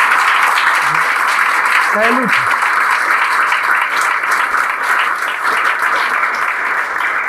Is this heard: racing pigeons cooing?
no